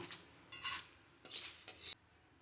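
Fried green banana (valakkai) is tipped onto a plate in three quiet bursts of scraping and clattering, with soft rattles of pieces and utensil against the plate and silent pauses in between.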